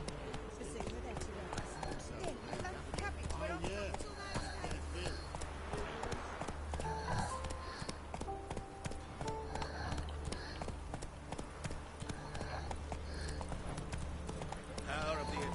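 Roach the horse galloping in The Witcher 3, rapid rhythmic hoofbeats on ground pounding steadily throughout, with game music and voices talking over the hooves.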